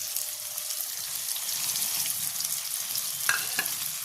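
Spice paste frying in a pan for a Bengali-style fish curry, a steady close hiss and sizzle with fine crackle throughout and a couple of brief clinks near the end.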